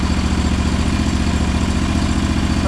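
A John Deere 318 garden tractor repowered with a Briggs engine runs steadily close by, a loud, even, rhythmic engine throb with mechanical clatter and no speech.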